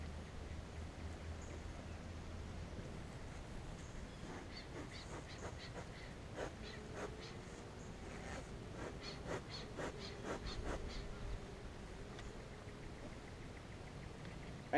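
Honeybees at a hive being smoked during an inspection, a faint continuous buzzing drone with scattered louder insect passes and light knocks, no speech.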